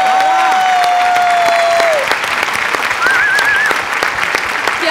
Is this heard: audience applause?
yes